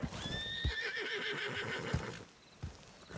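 A horse in a video game whinnies loudly with a quavering, high neigh, followed by a few dull hoof thuds, close and clear with no talking.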